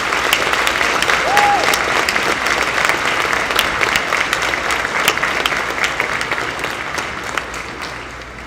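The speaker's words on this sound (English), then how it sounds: "Graduates, Please give your families a big round of applause for the love and support they've provided you thus far." An audience applauds at a high school graduation ceremony, with loud, sustained clapping from a large crowd in a hall that slowly fades toward the end.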